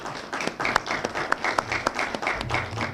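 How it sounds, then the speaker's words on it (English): An audience at a 2014 ASU lecture series claps for a businessman from Camilla, Georgia, as he is introduced. Scattered, uneven hand claps with sharp individual slaps ring out steadily for three seconds over a faint room murmur. "Let's give him a round of applause."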